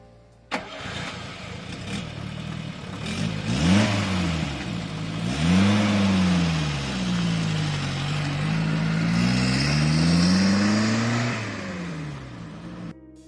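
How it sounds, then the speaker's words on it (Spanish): A 1967 Fiat 850 Coupé cranks, fires up and pulls away, its small engine revving in rising and falling sweeps through several gears, fairly close and loud with no one speaking. "Vamos ahora a ponernos en marcha."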